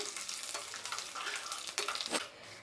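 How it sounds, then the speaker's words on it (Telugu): Dried red chillies and curry leaves sizzle steadily in hot oil for a Telugu rasam tempering, a dense close crackle with a few brief louder pops toward the end, no voices. "ఇప్పుడు ఎండుమిరపకాయలు, వీటినంతా వేయించుకుందాము"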